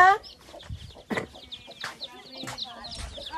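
Hens cluck nearby while small chicks peep in high, rapid chirps, with scattered sounds of the flock moving around.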